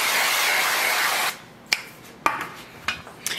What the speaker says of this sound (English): we're going to take a baking sheet, spray it with some nonstick cooking spray